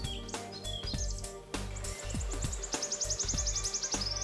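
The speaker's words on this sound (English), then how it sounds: "They're home to birds like the pied flycatcher," Birds in Welsh woodland chirp and sing close by, with quick repeated tweets and rising trills over a soft background.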